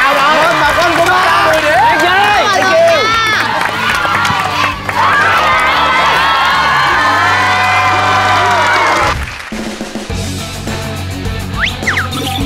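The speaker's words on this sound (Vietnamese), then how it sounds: "vỗ tay nồng nhiệt" A crowd at an outdoor Vietnamese variety show in Sóc Trăng cheers, whoops and shouts loudly for several seconds, then the noise drops off, leaving scattered voices and talk.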